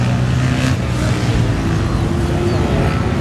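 Vintage racing motorcycles at Mid Ohio pass on the track with a loud, steady engine roar that carries throughout, loudest early on, with faint voices in the background.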